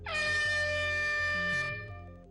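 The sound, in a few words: air horn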